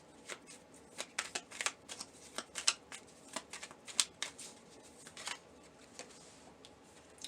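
Tarot cards being shuffled by hand in a quiet room, a steady run of crisp riffling bursts and soft card slaps, fairly close and alone with no talking.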